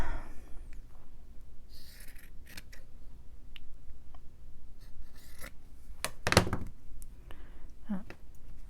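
Scissors snip through a wrinkled piece of material for a journal cover, with scattered cuts and paper rustles close by and a sharper burst of crinkling near the end.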